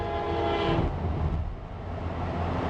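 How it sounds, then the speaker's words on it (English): A passing train rumbles loudly and close, with a sustained horn-like tone in the first second before the rolling rail noise continues steadily to the end. "Oh, that was a train."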